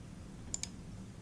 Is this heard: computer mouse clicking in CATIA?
yes